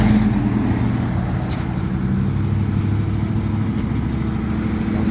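A Bid-well concrete paving machine on a bridge deck rumbles steadily as it moves forward, a continuous low engine drone heard from close behind, with no talking.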